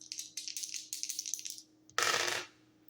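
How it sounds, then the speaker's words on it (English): Dice rattle and clatter across a hard surface during a tarot reading, a quick run of small clicking bounces for about a second and a half, then a brief pause and a louder burst of tumbling rattle that dies away. "rolling the dice to see what I need to shuffle the deck to"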